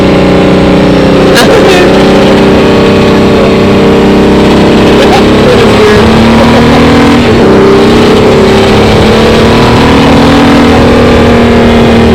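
A loud car engine roars and accelerates close by for the whole stretch, its pitch climbing and shifting, with voices faintly mixed in.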